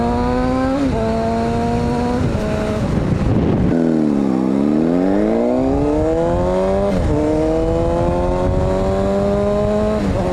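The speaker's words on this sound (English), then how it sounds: "So many bikes out today." Motorcycle engines drone steadily in Japan, then one roars close by with a sweeping pitch drop as it passes, before the steady engine hum returns.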